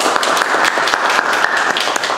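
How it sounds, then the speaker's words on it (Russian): Loud, dense applause from an audience after a poetry reading by a Leningrad poet, continuous rapid clapping held at an even level throughout. "Аплодисменты."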